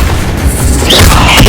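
Accio summoning spell cast in Hogwarts Legacy, a loud, booming magical whoosh that swells and rumbles over about a second and a half, close and heavy.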